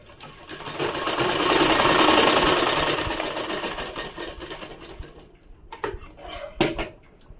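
Sewing machine running a long continuous stitch on a salwar kameez, a steady loud whir lasting several seconds, then stopping and giving way to a few sharp clicks and knocks.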